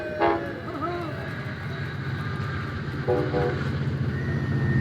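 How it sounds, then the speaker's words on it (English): A train rumbles past close behind a station in Fairfield-Vacaville, a steady low roar with brief horn-like tones near the start and again near the end. "it's going to be this train that's going right behind me, and David, thank you for timing this train"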